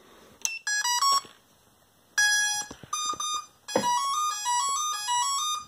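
A Turnigy Plush brushless ESC flashed with BLHeli plays its throttle calibration tones: several short bursts of stepped electronic beeps, musical up-and-down tone patterns, with brief gaps between them and a longer final sequence, heard clearly with no talking.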